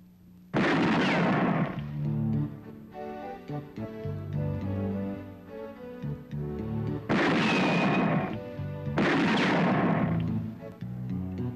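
Several loud gunshot bursts from a gun fired during shooting lessons in a Filipino action film, the first near the start and two more close together later, each booming over a continuous music score.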